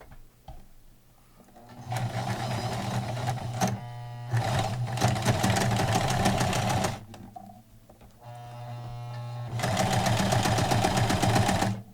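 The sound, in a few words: sewing machine sewing bandage onto PPE mask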